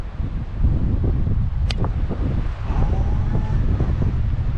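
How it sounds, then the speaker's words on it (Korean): Strong wind buffets the microphone on an outdoor golf course, a loud, constant low rumble with rustling, and a faint voice briefly audible under it. "바람이 엄청 납니다"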